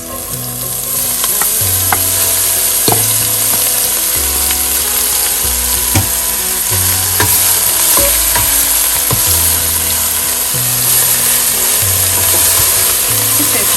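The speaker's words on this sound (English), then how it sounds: "as that starts to cook through, we're going to add our leeks" Leeks frying in a pan for Sri Lankan style noodles with eggs and vegetables, a loud continuous sizzle punctuated by repeated scraping and stirring strokes at an uneven rhythm, with no talking.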